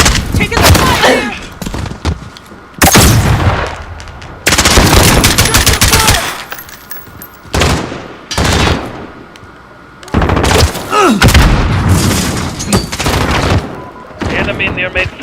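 Heavy automatic gunfire from a Modern Warfare multiplayer match rattles in loud, repeated bursts separated by short pauses, with explosive booms mixed in and in-game callouts occasionally over the shooting.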